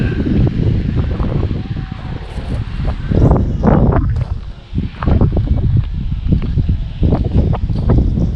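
Strong wind buffeting the microphone in loud, rumbling gusts that rise and fall continuously outdoors on Favignana Island off the west coast of Sicily.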